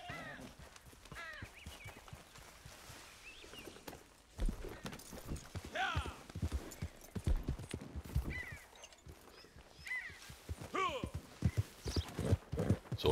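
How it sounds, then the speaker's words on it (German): Horse hooves clip-clop steadily as a horse approaches in the video game Red Dead Redemption 2, the rhythmic thuds getting louder over game sounds and someone talking throughout. "Das Pferdchen. Da kommt's."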